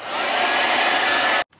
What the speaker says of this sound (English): you can just use a hairdryer to speed up the process